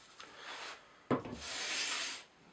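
Hand plane pushed along a wooden board during setup, taking strokes that produce no shavings yet: two soft, close rasping strokes, the second longer and steadier, with no talking.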